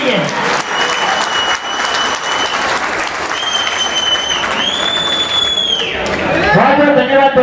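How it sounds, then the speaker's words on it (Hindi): Audience clapping at a community get-together celebration, steady and loud throughout, with a sustained tonal whine and a sliding pitch sweep laid over the crowd noise. "तो एक साथ इन सभी के लिए तालियां हो जाए और बिल्कुल कंजूसी नहीं होनी चाहिए।"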